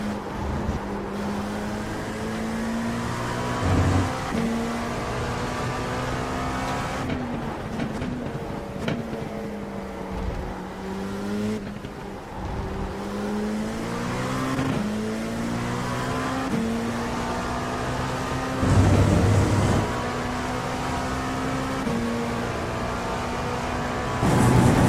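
An LMP2 prototype race car laps Silverstone during testing, its high engine note climbing and dropping through repeated gear changes as it comes closer, loud and alone, with the pitch swinging all the way through.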